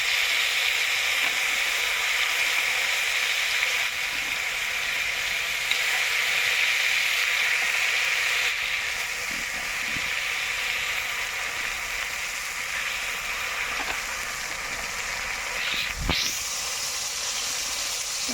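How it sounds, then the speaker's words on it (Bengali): Whole spices and bay leaf sizzle steadily in hot oil, a dense continuous frying hiss close by with occasional soft stirring scrapes and no talk. "এবার এক এক করে সব মশলাগুলো দিয়ে নেব আমি"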